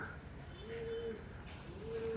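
Soft, low cooing from pigeons, two or three drawn-out calls over a steady outdoor background hum.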